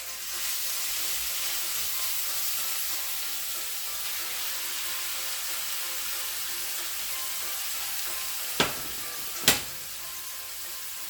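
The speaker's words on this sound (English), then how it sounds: "in my wok here I have 1 tablespoon of oil and I'm going in with my meat" Meat fries in a tablespoon of oil in a wok, giving a steady, loud, even hiss throughout, with two sharp utensil clicks near the end.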